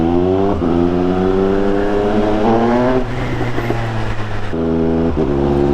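A Triumph Speed Triple 1200 RS with a Pro-Race GP-R3R exhaust rides at low speed in fourth gear, its loud, steady engine drone rising and easing through the throttle with harmonic rumble, close and continuous with no talk.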